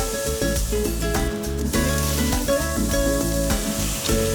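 Marinated swordfish sizzles steadily on a grill, a dense continuous crackle and hiss with tonal hum beneath, close and loud with no talking.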